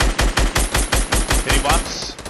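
Rapid automatic gunfire from a shooter video game, a loud close burst of about a dozen evenly spaced shots fired in quick succession with no talk over it.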